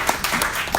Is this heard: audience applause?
yes